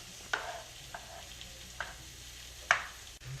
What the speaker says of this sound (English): Then mix that up and let it cook for 2 to 3 minutes until the onions are soft.